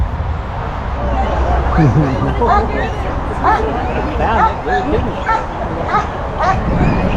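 Working detection dogs at a UDT/SEAL reunion bark, yip and whimper repeatedly and excitedly, up close, while people talk and chatter nearby.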